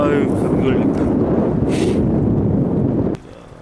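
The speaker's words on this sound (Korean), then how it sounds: "바람 때문에 뭘 할 수가 없다 바람 때문에 멘트를 할 수가 없어요" Strong wind gusts buffet the microphone at a harbor fishing spot in Taean, a loud continuous roar that drops off abruptly near the end, with someone speaking over it.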